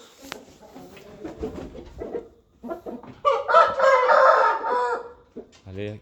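Chickens cluck and squawk in a busy run, then a rooster lets out a loud, drawn-out crow close by.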